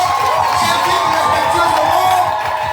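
Large crowd at a church gathering cheering and acclaiming in a steady, dense roar, with voices and whoops blending into continuous noise.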